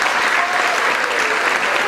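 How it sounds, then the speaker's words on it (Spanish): Steady, loud applause from an audience at a Marian dinner in Bogotá, dense clapping sustained evenly throughout with no pauses. "le pido un aplauso para él"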